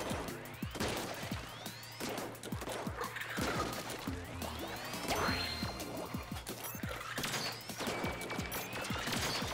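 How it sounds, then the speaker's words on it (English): A Gatling gun type enemy in Splatoon 2 Octo Expansion firing rapid continuous bursts, dense clattering shots layered with splats and whooshing game effects, steady and busy throughout, with no talk. "there's also like a Gatling gun type of enemy"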